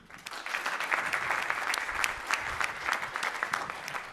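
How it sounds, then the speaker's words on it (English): A crowd claps for presenters at a business pitch competition, steady medium-distance applause that swells after a quiet start and carries on evenly to the end. "I would please ask everybody to give a round of applause for all of my peers that presented"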